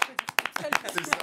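A few people clap to welcome a guest on a French street-interview show, giving quick irregular bursts of claps that are mixed with voices.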